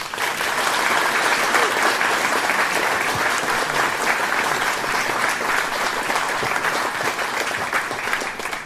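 Sustained applause from an audience welcoming Australian Prime Minister Scott Morrison to a speech in Albury, a steady dense clapping that holds at full strength throughout.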